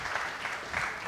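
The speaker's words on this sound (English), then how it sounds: "A round of applause for all the panel participants." Short round of audience applause for panel participants at an indie game developer fireside chat, a fairly soft, steady patter of many hands clapping at a distance.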